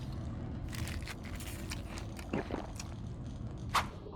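Eating food from the inventory in Subnautica, soft crunching and squishy biting effects over a low steady underwater ambience, faint and fairly brief with no voices.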